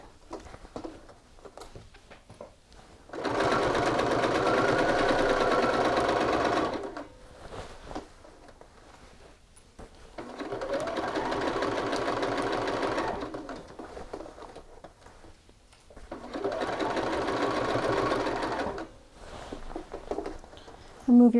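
A domestic sewing machine stitches a shirt collar in three steady, moderately loud bursts of whirring, each lasting a few seconds, separated by quiet pauses for handling the fabric.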